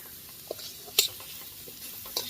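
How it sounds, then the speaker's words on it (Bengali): Tomato and spices, including red chili and turmeric powder, sizzle in a pan for a soybean curry while a spoon stirs them. A soft steady fry runs under a few clear scraping clinks and taps, with no voices. "ভালো করে নাড়িয়ে কষিয়ে নেব।"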